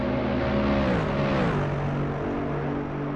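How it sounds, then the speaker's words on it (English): V8 race car engines at Suzuka in a GT3 racing game, a dense, loud engine drone whose pitch falls sharply mid-way as cars pass or lift off, then holds steady; no talk. "Oh, those V8 engines in the Suzuka."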